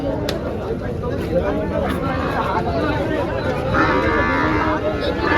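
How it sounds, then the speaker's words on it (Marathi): Buffaloes and cattle moo loudly at a crowded livestock market in Dhule, with long deep calls rising over a constant babble of voices and market noise. "खाली म्हशी पण आलेले असतात."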